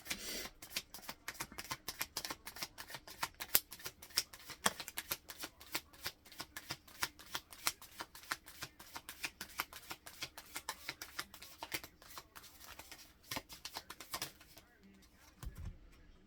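Tarot cards shuffled in a long, even stream of soft rapid flicks close by, fairly quiet, with faint bird cooing in the background and a few light thumps at the end.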